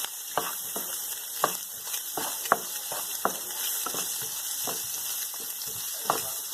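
Chicken pieces get tossed with black pepper powder and salt in a hot pan, a continuous sizzle broken by repeated scraping and clattering strokes of a spoon or spatula, close and fairly loud.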